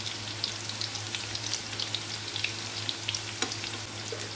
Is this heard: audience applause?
no